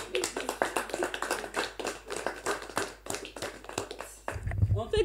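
A church congregation claps rhythmically to acclaim Jesus, with sharp, steady hand claps in a quick beat mixed with voices. The clapping thins out near the end as a low hum rises.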